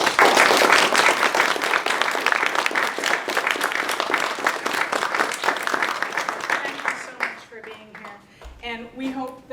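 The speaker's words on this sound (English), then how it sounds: "Please give them a round of applause." A live audience at a literary magazine release party and reading claps loudly for about seven seconds, the applause thinning out near the end as a voice begins speaking.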